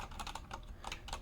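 Fingers type quickly on a cheap FELiCON mechanical keyboard, a close, quiet stream of soft, muted key clacks in an uneven rhythm, with no talking.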